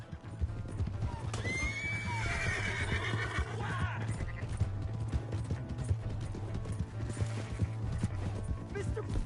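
In a video game, a horse whinnies loudly near the start, then hooves clip-clop steadily under a constant low hum, with scattered clatter continuing throughout.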